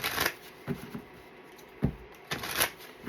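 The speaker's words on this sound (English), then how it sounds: "I'm just going to shuffle this deck" A deck of tarot cards being shuffled by hand, with soft riffling bursts and taps coming in irregular clusters, close and quiet.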